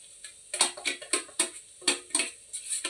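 Carrot halwa with cashews, raisins and almonds is stirred in a pan, producing brisk, regular scraping strokes that repeat several times a second, close and fairly loud, with no talking.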